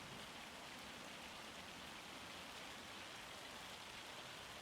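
Rain and hail pour down in Farming Simulator 25 as a dense, unbroken hiss, faint and uniform with no talk or other sounds above it.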